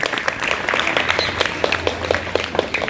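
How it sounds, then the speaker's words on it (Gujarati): An audience at a talk in a school setting applauds, giving a dense, steady patter of many hands clapping, fairly close and loud, lasting the full few seconds with no break. "એકવાર તાળીઓ વગાડી દો એમના માટે."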